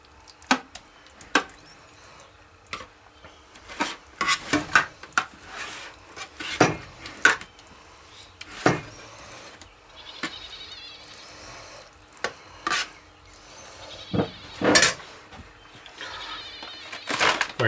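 A utensil scrapes and clinks against a casserole dish in irregular bursts as beef and refried beans are spread in, mixed with soft, wet smearing sounds, close up and with no voices.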